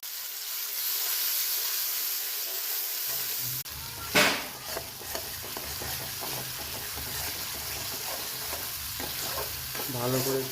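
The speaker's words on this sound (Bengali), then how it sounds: "ভালো করে একটু ভেজে নিলাম।" Chilli, turmeric and garam masala paste for a magur fish curry hits hot oil with a sudden loud sizzle, then keeps frying with a steady hiss and occasional stirring scrapes, close up.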